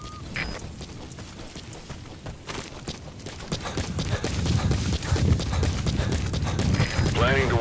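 Horse hooves clip-clop steadily in the video game Metal Gear Solid V: The Phantom Pain, a continuous rhythmic trot that grows louder over the wilderness ambience.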